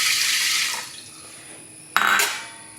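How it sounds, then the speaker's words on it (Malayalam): Water is poured onto green gram in a pressure cooker, a close splashing pour at the start that fades, then a second short burst of water near the end. "ഈ പയറിലോട്ട് നമുക്ക് കുറച്ച് വെള്ളം ഒഴിച്ചു കൊടുക്കാം."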